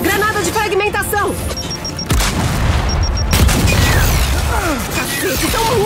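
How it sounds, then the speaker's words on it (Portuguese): A frag grenade goes off in the Gears 5 game during a hectic firefight, a loud boom and crash around the two-second mark amid gunfire and game effects, with a voice shouting in game over the chaos. "Lançando granada! Granada de fragmentação!"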